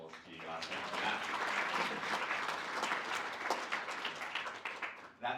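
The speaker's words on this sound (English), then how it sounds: "another round of applause to you guys." Sustained audience applause after a talk on stopping family and domestic violence in Australia, many hands clapping steadily for several seconds, fairly faint and distant in a hall.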